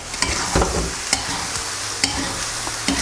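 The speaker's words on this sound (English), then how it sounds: "let's fry up this mince properly" Beef mince with whole red chilies frying and being stirred in a pan for an aloo keema curry, a steady close sizzle broken by periodic scraping knocks of the spoon.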